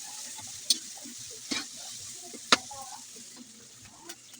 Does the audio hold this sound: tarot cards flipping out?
no